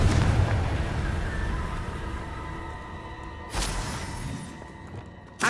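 In Hogwarts Legacy, a Confringo fire spell bursts in a booming explosion that rolls off slowly, followed a few seconds later by a second, sharper blast amid the ongoing din of battle.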